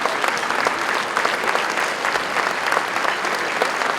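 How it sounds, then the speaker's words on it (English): Banquet crowd applauding at an anniversary award and celebration dinner, loud continuous clapping from many hands, close and steady throughout. "let's give them all a nice round of applause"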